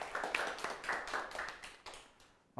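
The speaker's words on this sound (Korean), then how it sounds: "박수 한번 주세요." Applause from a group, a steady patter of many hands clapping at moderate loudness, fading out near the end.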